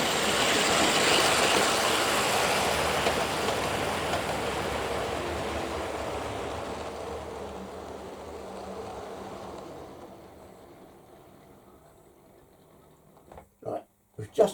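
A model train runs along a layout with a steady rolling rumble and hiss that fades gradually, followed by a few sharp clicks and knocks near the end.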